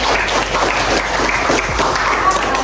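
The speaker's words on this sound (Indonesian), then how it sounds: "Oh, kita tepuk tangan dulu buat Cinta." A classroom of students gives Cinta a round of applause during a lesson, a loud, close, continuous patter of many hands throughout, with faint voices mixed in.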